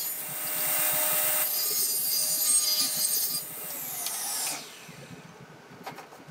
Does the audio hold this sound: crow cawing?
no